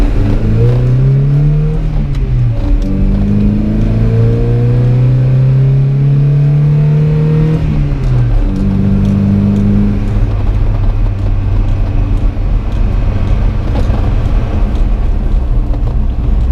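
A 1986 Toyota pickup truck engine pulls hard while driving, its loud drone rising in pitch through the gears with clear shift breaks. It runs continuously and alone, with no talk.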